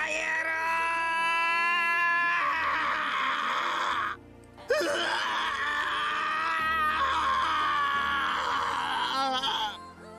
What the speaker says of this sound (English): His scream of pain filled the cathedral of sorrow.